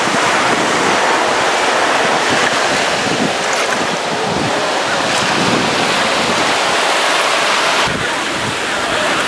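Waves of a rising tide wash onto a beach where children play by a sand wall, loud continuous surf mixed with heavy wind buffeting the microphone, with brief surges of breaking water.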